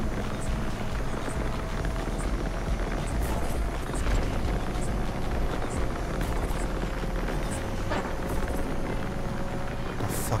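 In the racing game Need For Speed Unbound, a steady helicopter-like whirring drone runs at moderate volume for the whole stretch under continuous game engine and road noise. No one speaks.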